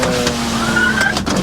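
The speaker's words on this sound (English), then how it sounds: "Windows work." Power windows on a 2020 Honda Civic give a steady electric motor whine as the glass moves, close and fairly loud inside the car, with no talking.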